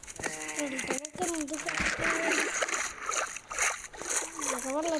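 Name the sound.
splashing through water in the video game Minecraft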